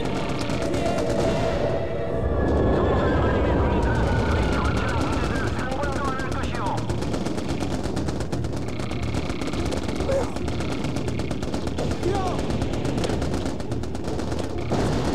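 Sustained automatic gunfire rattles on without pause through the battlefield of the game Mercenaries: Playground of Destruction, dense and loud with explosions mixed in and game voices shouting under it.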